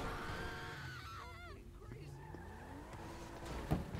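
Sports car in Grand Theft Auto V driving hard and skidding, engine whine and tire squeals with shifting pitch, then a sharp impact near the end, a voice talking over the driving.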